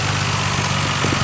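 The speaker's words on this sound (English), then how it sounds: "The engine sounds excellent, no troubles whatsoever" A 1997 Nissan Skyline R33 GT-R V-spec engine idles with a loud, steady, even rumble for a short stretch, heard close and alone.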